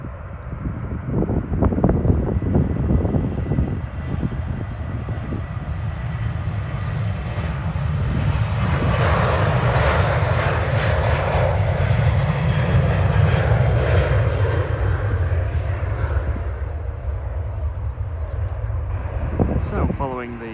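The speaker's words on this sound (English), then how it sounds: "737-8 on takeoff roll." A Ryanair Boeing 737-8 jet on its takeoff roll at Manchester Airport on a clear day: a loud, sustained engine roar that swells and holds for about twenty seconds, with a faint voice underneath.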